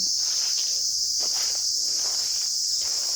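Loud, steady high-pitched cicada drone filling the air of a forest without pause, with faint rustling beneath.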